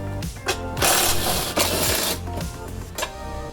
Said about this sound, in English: you basically want to undo this top screw and that other screw right there, both 10mm